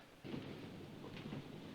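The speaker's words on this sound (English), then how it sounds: "Storm is brewing. It's gonna rain." Distant thunder in the 1957 film 12 Angry Men, a low rumbling roll that swells twice over steady rain-like hiss, quiet and far off.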